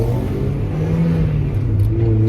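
Mazdaspeed Miata with a refreshed clutch system on a test drive, its engine droning and revving steadily from inside the car with a low continuous rumble throughout.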